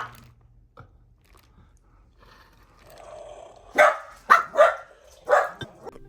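Several dogs bark in a quick cluster of loud, close yaps toward the end, reacting to an interactive toy Banshee from Disney World's Pandora attraction after a mostly quiet stretch.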